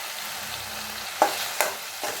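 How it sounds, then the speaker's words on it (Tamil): Tomato kurma frying in a pan with turmeric, chili powder and coriander powder stirred through it: a constant soft sizzle with a few sharp scrapes of the spoon against the pan. "எல்லாம் சேர்த்து நல்லா கலந்துக்கலாம்"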